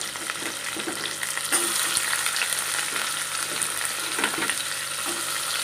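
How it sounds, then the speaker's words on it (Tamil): Onions and curry leaves fry in a pan with crushed garlic and green chillies, a steady close sizzle punctuated by the scrape of occasional stirring, with no voices. "வெங்காயம் நல்லா வதங்கட்டும்."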